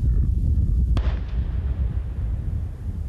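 A World War II artillery shell is detonated in a quarry: a single sharp, loud detonation cracks out of a steady low rumble of wind, followed by a fading boom and rolling echo.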